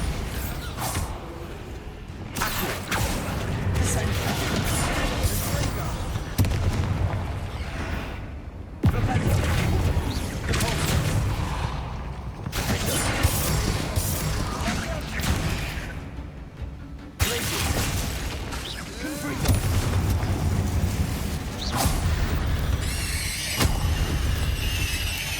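Explosive Confringo and Bombarda spells in Hogwarts Legacy, a dense series of loud blasts, booms and crackling impacts in repeated bursts separated by brief lulls, mixed with game effects and occasional voices.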